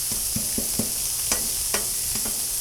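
Chunks of frozen vegetables sizzle on a hot Blackstone griddle while a spatula chops and scrapes them, giving a steady frying hiss broken by about eight sharp, close taps.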